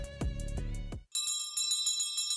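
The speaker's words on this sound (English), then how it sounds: "this bell rings for every child who triumphs over cancer." A celebratory bell rings at Children's Hospital Los Angeles, giving bright, sustained metallic tones with repeated strikes that shift into a higher, rapid tinkling ring, clear and close with no talking.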